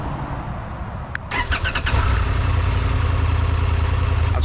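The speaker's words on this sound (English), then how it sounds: "with all new Triumphs, you have to hold the clutch in to start it" A 2025 Triumph Tiger Rally Explorer motorcycle cranks over and fires, its engine catching after a brief starter whirr and then settling into a loud, steady idle close by.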